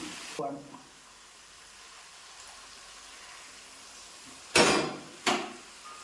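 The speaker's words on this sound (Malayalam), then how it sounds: "കുറച്ച് ചൂടുവെള്ളം ഒഴിച്ചു കൊടുക്കണം" Hot water poured into sizzling chicken gravy in a pan gives two sharp, loud hissing bursts near the end, each flaring and then fading, after an earlier brief sizzle over a quiet, low kitchen background.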